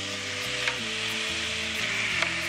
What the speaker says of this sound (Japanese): じゃあこうやってバターが溶けましたら、ここにね、お肉を投入です。